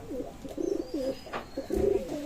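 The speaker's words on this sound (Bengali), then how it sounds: "ভিউয়ার্স রানিং একজোড়া ওমান টেডি কবুতর আছে।" A pair of Oman Teddy running pigeons coo nearby in soft, repeated rolling phrases with brief pauses between them, over a quiet background.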